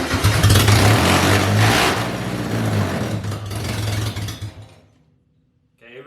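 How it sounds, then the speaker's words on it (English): An MG Midget engine cranks, catches and revs loudly with a rough, uneven throb, then dies away into silence before a faint voice returns at the end. "Okay, it revved by itself there."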